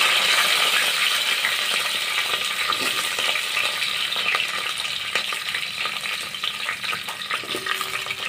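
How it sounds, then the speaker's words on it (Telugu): Close, steady sizzle of onions and green chilies frying in oil in a pot for cucumber sambar, with light clinks and stirring noises now and then. "ఇలా ఆయిల్ వేసేసుకున్నానండి గిన్నెలో. తర్వాత వచ్చేసి ఇక్కడ ఆనియన్స్, పచ్చిమిర్చి వేసుకున్నాను."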